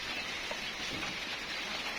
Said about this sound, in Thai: ก็มือนี้ก็ฝนตกครับ